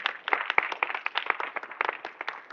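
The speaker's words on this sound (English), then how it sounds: "Could you guys give her an awesome round of applause?" Audience applause at a neuroscience talk, a smaller group clapping in quick uneven bursts, sparse and fairly close, with individual hand claps clearly distinguishable.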